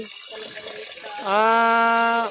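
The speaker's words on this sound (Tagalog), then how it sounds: "Punuin nyo ng tubig." Tap water pours into a pot of rice in a home kitchen, a brief gushing stream whose pitch rises sharply as the pot fills.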